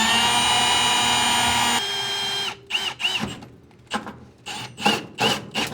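A power drill with a 2.5-inch hole saw whines steadily, then bites into thin sheet metal in a series of rough, grinding bursts with short pauses between.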